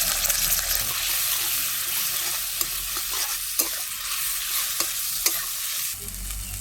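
Ground spice paste with a little water and turmeric fries in a pan for a small fish curry, giving a loud, steady close sizzle broken by occasional scraping stir clicks, with no talk.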